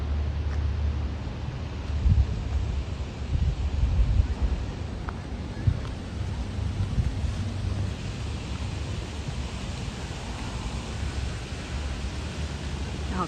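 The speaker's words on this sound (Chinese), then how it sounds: "好大风" Strong autumn wind roars and buffets steadily outdoors, a broad rushing noise with gusty low thumps against the microphone, continuing throughout.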